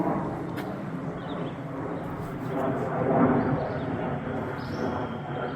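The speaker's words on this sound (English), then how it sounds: "Sounds like we got a fighter jet overhead." A steady, broad roar of a fighter jet passing overhead, heard from a trail in the Appalachians near Jonestown, Pennsylvania, fairly distant, swelling slightly midway and then holding as a continuous rumble.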